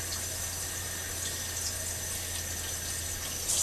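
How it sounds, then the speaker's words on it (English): Water runs steadily into a jar of sprouting grains and beans, a constant close hiss and trickle with a low hum beneath and no pauses. "We put some water in there"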